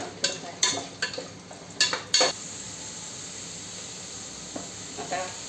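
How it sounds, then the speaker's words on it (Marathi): Vegetables for paneer biryani fry half-raw inside an open pressure cooker: a few sharp spoon scrapes and clanks against the metal come first, then a steady low sizzle continues with a couple of faint stirs near the end. "सगळ्या भाज्या थोड्या अर्ध्या कच्च्या फ्राय करून घ्यायच्या"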